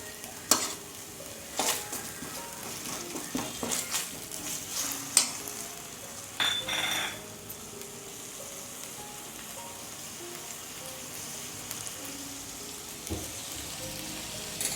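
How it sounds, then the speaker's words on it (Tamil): Chicken gravy cooking in a pan over a medium flame, a steady soft sizzle with several sharp scraping stirs in the first seconds, then quieter bubbling and frying. "இது கொஞ்சம் அப்படியே சிம்மில் மீடியம் ஃப்ளேமில் வச்சுட்டு வதக்கிட்டு இருக்கேன்"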